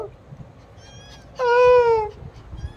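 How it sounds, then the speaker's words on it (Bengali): A pet cat gives a single clear meow in the middle, close and fairly loud, preceded by a short faint vocal sound and quiet background. "পুষু মেউ করো"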